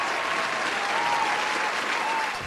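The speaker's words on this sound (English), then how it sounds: "applause sound effect in the background" Steady applause from a crowd claps continuously at moderate volume throughout, a dense even patter with no pauses.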